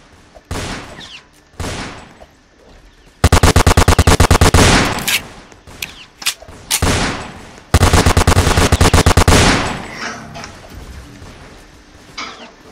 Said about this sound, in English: In this one I get dual pistols.